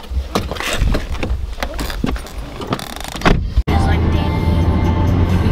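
Getting into a car for an outing: scuffs, a light jangle of keys and a car door thudding shut partway through, followed by muffled cabin quiet with a low steady hum; a voice talks nearby at the start.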